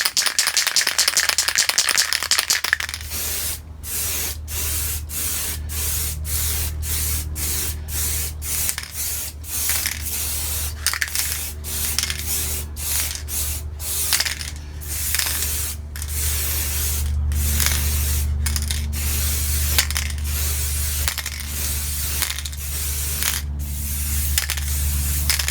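A spray paint can hisses steadily while coating a model tank, with a continuous loud spray broken by frequent brief pauses and rattling clicks as the nozzle is pressed and released.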